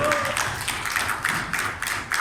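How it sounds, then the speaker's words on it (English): At a Round Table India area meeting, an audience claps in a quick, fairly even rhythm over a noisy hall, and the sound stays continuous for about two seconds with no clear talk. "Big round of applause for them."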